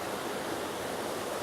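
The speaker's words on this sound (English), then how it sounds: "Ah, Bear Creek flowing well." Bear Creek flowing well on a still evening along the Pacific Crest Trail, a steady, broadband rush of moving water that continues evenly without any voices.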